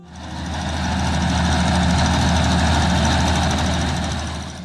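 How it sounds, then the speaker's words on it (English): A Case 930 tractor's diesel engine runs at a steady idle, a loud continuous rumble with a fine rapid knocking texture that swells in and stays constant throughout. "Then there's the diesel engine."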